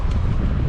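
Wind blows outdoors beside a river in Taiwan, a brief steady rumble of gusting air buffeting the microphone, low and broad with no voices.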